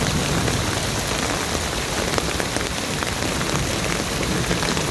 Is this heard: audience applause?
no